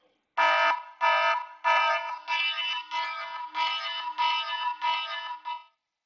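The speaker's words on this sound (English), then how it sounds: "So now you can hear this alarm tone." Alarm tone played through an Android app in a development demo: a harmonic electronic beeping alarm in about nine evenly spaced loud pulses, clear and alone with no talk.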